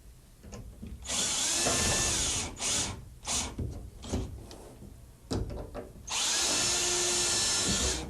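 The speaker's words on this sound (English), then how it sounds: "We'll pre-drill that and then shoot a screw into it." Power drill whirs in two long, high-pitched bursts at start and end while pre-drilling into a shower panel, separated by short clunks and handling noises, close and loud.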